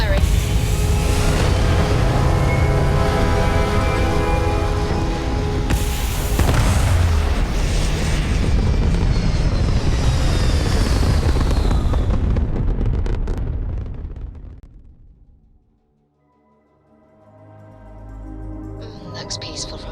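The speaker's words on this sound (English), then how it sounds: "All thrusters firing." Spaceship thrusters in Starfield blast with a loud, sustained roaring burn for about thirteen seconds, then cut away into near silence before a softer engine hum returns.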